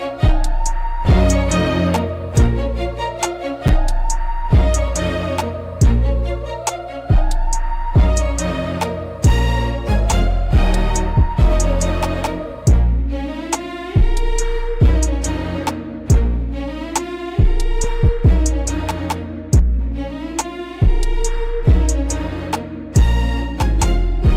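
Motown-style AI-generated track from Suno Studio with dramatic strings over a steady, punchy beat, repeating in regular bars throughout, loud and continuous with no voices.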